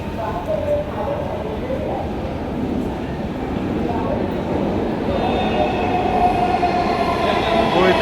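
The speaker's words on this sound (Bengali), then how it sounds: "এই তো ট্রেন চলে এসেছে।" A Dhaka metro rail train pulling into a station, a loud, steady rumble of wheels and carriages that builds with rising whine and squeal, while people talk nearby.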